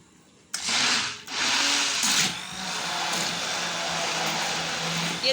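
A blender whirs steadily as it mixes milk and yogurt for lassi. It starts abruptly, dips briefly, then runs as a loud continuous motor drone close by, with no talking.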